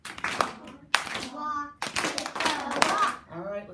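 A child and an adult clap a simple walk-walk-tiptoe-walk rhythm in a music lesson. A few sharp, close claps are spaced between spoken voices.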